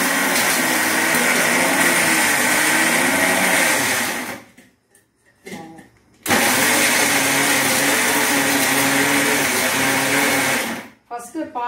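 A kitchen mixer grinder whirs loudly as it blends in its jar, a steady high motor drone that cuts out briefly, restarts with a short pulse, then runs on before stopping again.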